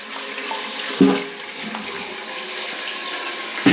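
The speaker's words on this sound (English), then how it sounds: "hold open the flush to fill the pan up" A toilet flush is held open during a budget bathroom renovation, sending a steady rush of water into the pan, with a sharp clunk near the start and another at the end.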